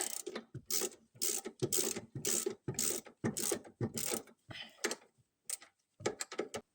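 A hand ratchet clicks in a long series of quick, even strokes while tightening a nut on the engine of a 2002 Toyota Yaris 1.0-litre VVT-i, close and fairly quiet, with brief pauses near the end.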